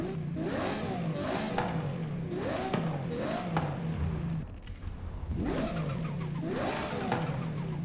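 A Ferrari J50 sports car with a 6.5-liter engine revs repeatedly in Forza Horizon 5, rising and falling in pitch in several loud surges, with a brief dip midway and no speech.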